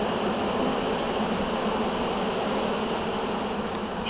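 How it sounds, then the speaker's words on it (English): A good-sized honey bee swarm settling into a box in Kansas, heard as a steady, dense buzzing hum that holds evenly throughout, close and fairly loud, with no voices. "they're marching into the box still, settling in. Pretty good sized swarm."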